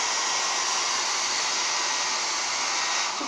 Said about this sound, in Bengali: ড্রায়ার কিন্তু অলওয়েজ দূর থেকে ধরতে হবে, একদম দূর থেকে ধরতে হবে ড্রায়ার